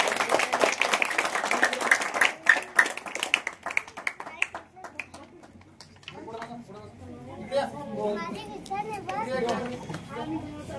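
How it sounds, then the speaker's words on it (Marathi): A crowd of children and adults claps in welcome at a camp gathering, with dense, loud applause for about six seconds that fades into children's chatter and an adult voice speaking. "सर्वांनी टाळ्या वाजवून स्वागत करायचंय."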